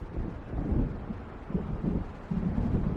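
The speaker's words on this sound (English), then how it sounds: "It seems there's a storm coming." In the Alan Wake Remastered video game, low rolling thunder from an approaching storm rumbles in uneven swells, mixed with wind and a steady outdoor wash.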